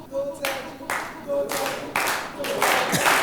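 Audience clapping demonstration at a show, a few separate loud group claps spaced roughly half a second apart, with crowd voices in between.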